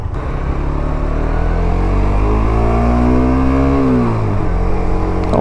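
A Suzuki GSX-S 125 motorcycle accelerates hard, its engine note climbing steadily, dropping briefly at a gear change and then pulling again, loud and close throughout.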